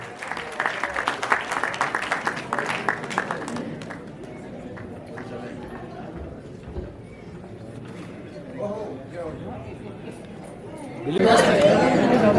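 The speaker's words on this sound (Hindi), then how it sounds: "जोरदार ताली की गड़गड़ाहट हो जाए दोस्तों" A burst of dense audience applause at the Maharashtra Ratna Award ceremony erupts loudly near the end, following a stretch of crowd chatter and background voices.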